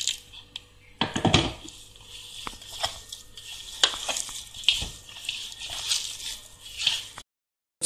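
Semolina dough is kneaded by hand with water for pani puri, giving repeated wet squishing and slapping pressed in an irregular rhythm, close up and fairly clear, with occasional thumps against the bowl.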